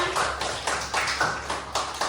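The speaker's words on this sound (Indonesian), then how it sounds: "Tepuk tangan buat anak kita." A classroom of pupils clapping for a child, a faint burst of hand claps with several soft rhythmic peaks spread across two seconds, no talking over it.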